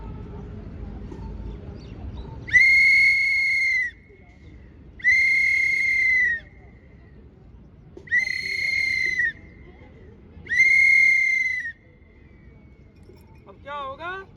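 Air raid warning signal during police and army training: four long, steady whistle blasts, each over a second long, evenly spaced with quiet gaps. Faint rumbling background sits in between, and a short chirpy whistle comes at the end.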